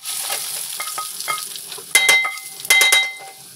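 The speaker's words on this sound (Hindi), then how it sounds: "देखो अभी आप देख सकते हो कि हमारा मटन अच्छे से फ्राई हो चुका है।" Mutton frying in a pan, a fairly close hissing sizzle broken by light scraping and stirring strokes, with two louder metallic clatters near the end; no one speaks.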